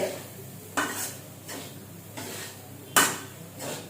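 Rice fried with cabbage is stirred in a pan: four or five distinct scraping strokes land at a steady rhythm over a soft, continuous sizzle.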